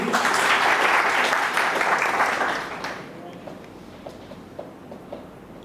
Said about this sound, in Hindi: एक बार और जोरदार ताली इसके लिए।